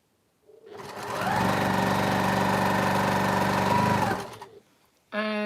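A sewing machine runs in one long steady burst of rapid stitching, close and loud, joining numbered fabric pieces along an edge, then winds down and stops before a brief voice at the end.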